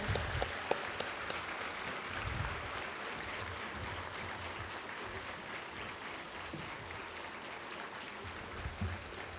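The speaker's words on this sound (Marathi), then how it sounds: "आपण किमान 1 मिनिटं तरी टाळ्या वाजवायला हव्यात." Applause from an audience at an International Yoga Day event, a sustained, fairly soft wash of many hands clapping continuously, with a few sharper claps near the start.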